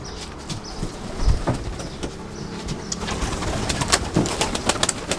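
Pigeons coo in soft, repeated low calls close by, with fluttering and scattered knocks and scrapes from the birds moving around them.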